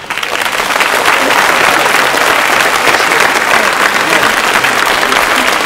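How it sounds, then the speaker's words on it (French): Loud, dense applause from a television audience greeting Miss Switzerland Lolita, a steady wash of many clapping hands that swells in quickly and holds at full strength throughout. "Je vous demande de l'applaudir."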